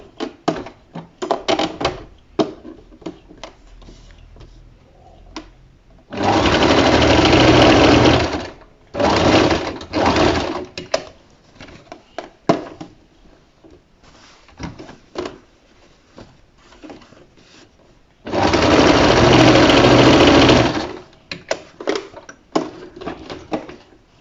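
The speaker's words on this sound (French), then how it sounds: "Je passe à la machine, je viens piquer ici à la machine" A sewing machine stitches fabric for a homemade cloth face mask in two loud, steady runs of a few seconds each, with quieter handling clicks and rustles between them.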